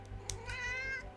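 Short, close meow from a domestic tabby cat, a single clear tonal call over a low background hum.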